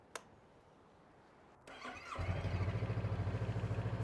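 A Honda motorcycle engine starts on the first try: a click, a short cranking whir, then the engine catches and settles into a steady, close, pulsing idle.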